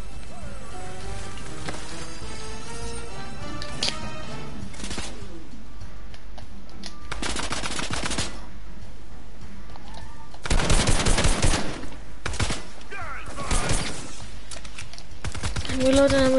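Video game gunfire in Fortnite rattles in rapid automatic bursts and single shots, loud and near, with keyboard clicks in between and a brief voice near the end.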